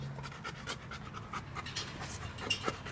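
A Labrador retriever pants close by in quick, rhythmic breaths that continue steadily, soft and near, with a few faint background sounds.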